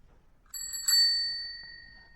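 An old-style telephone rings once in a French audio drama: a single bright bell-like ring, clear and close, sounding alone and fading slowly over about a second and a half.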